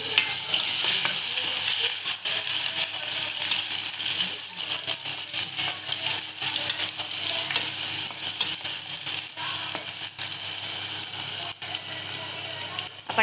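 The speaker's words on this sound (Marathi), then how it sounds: "फोडणीला टॅमॅटो टाकतो पण कांदा नाही घालत." Chopped tomatoes hit hot tempering oil with curry leaves, asafoetida and turmeric, giving a steady close sizzle and frying hiss while a utensil scrapes and stirs the pan, with no speech.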